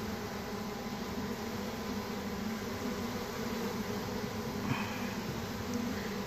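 Bees swarm and buzz around a hive box that has just been moved near its original spot, a steady dense outdoor drone holding at even loudness throughout with no voices.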